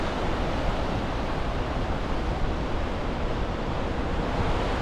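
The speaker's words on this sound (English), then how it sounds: "Bonneville Dam, or at least a small part of it, releasing water." Water released through Bonneville Dam on the high, snowmelt-swollen Columbia River roars as a steady, unbroken rush, loud and even from start to finish.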